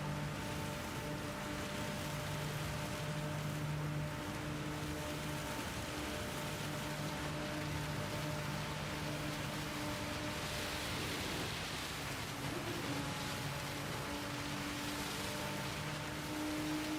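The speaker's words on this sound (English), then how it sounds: "That's the heaviest rain I've ever fucking heard." Very heavy rain in a racing video game on the Green Hell circuit, a dense steady hiss with a low rumble underneath, continuous and even throughout with no talk.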